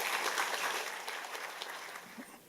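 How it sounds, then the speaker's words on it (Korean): Congregational applause during a Sunday evening praise worship service as a pastor is welcomed to the pulpit, a steady wash of many hands clapping in a church hall that gradually thins and fades. "우리 큰 박수로 목사님 환영하면"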